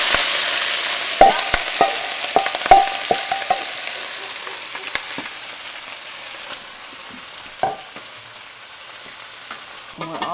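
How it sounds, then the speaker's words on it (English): Shrimp shells hit a tablespoon of hot oil in a pan and sizzle loudly and steadily, with sharp crackles and pops scattered through the first few seconds and again near the end. No one speaks. "we have 1 tablespoon of oil in the pan, and it's good and hot. And we're going to add to the pan our shrimp shells."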